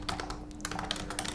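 Someone types steadily on a computer keyboard, a rapid run of light, close key clicks and taps, uneven in rhythm with a brief pause midway, over a low electrical hum.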